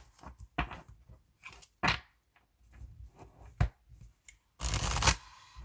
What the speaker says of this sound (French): Je vais enlever quand même ces cartes parce que je vais faire un tirage en un tableau.